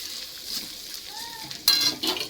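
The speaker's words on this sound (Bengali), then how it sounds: "এই আদাটা দিয়ে দিলাম, একটু নেড়ে চেড়ে আবার শুকনো লঙ্কাটা দিয়ে দেবো।" Grated ginger stirred into hot oil in a pan, faint sizzling that rises into two short bursts of scraping and crackle near the end, with no talk.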